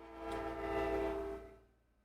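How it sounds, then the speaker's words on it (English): A loud passing train sounds a tonal horn that swells to a peak and then fades away over a couple of seconds, heard from some distance with no talk. "loud ass train"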